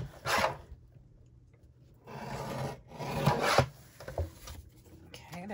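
Paper trimmed for card making with a scrap of cardstock, giving a few rasping, sliding scrapes with quiet gaps between them, close by, and no voices.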